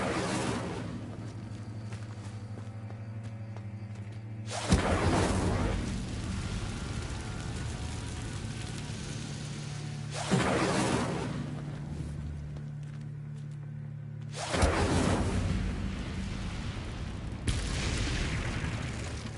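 Incendio fire spell cast in the video game Hogwarts Legacy, heard as several loud whooshing bursts of flame a few seconds apart, each a broad roaring swell that fades over a steady low background.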